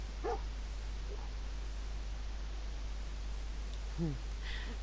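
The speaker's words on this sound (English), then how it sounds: "So there's a dog" In Fallout 4, a dog gives a couple of short, high yips or whimpers, one near the start and one near the end, over a steady low ambient hum.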